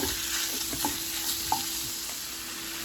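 A mix of ground beef and sausage browns in a pan for a single-serving lasagna, giving a steady close sizzle with occasional soft stirring clicks and no voices.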